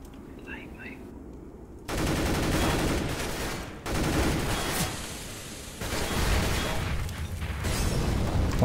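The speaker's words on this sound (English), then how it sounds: "I am throwing a flashbang!" Flashbang and gunfire in the video game CS:GO, a quiet muffled stretch giving way to loud bursts of rapid shots and blasts that cut out and return in sections, with a player's voice in the background.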